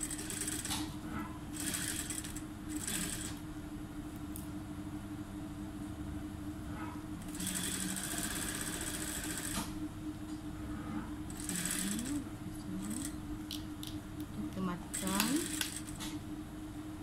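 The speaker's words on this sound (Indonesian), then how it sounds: "Okay, kita jahit kasar dahulu." A sewing machine runs in short bursts, basting a hidden zip into the end of a dress sleeve, with a faint rhythmic whir and clicks of handling between stitches, fairly quiet and close.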